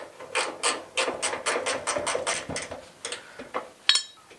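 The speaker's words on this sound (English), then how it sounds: "I think my gear wrench will come in handy here." A ratcheting gear wrench turns a bolt on the driveshaft center support bearing of a 2001 Kia Sportage, giving a run of about ten quick, evenly spaced clicks up close, followed by a few slower scattered clicks.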